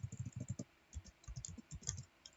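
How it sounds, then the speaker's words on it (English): Keystrokes on a computer keyboard as a command is entered in a terminal, a quick run of close, crisp clicks with short pauses between bursts. "And then let's type this command"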